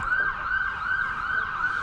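A nearby ambulance siren from a hospital by a county cricket ground wails in a steady, repeating rising-and-falling tone, clear and fairly loud with no voices.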